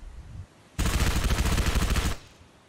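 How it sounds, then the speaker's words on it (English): A silenced SMG in a Halo-style VR shooter fires one sustained automatic burst of about 1.4 seconds, loud, close and densely rattling, with quiet before and after. "you got the silent SMG"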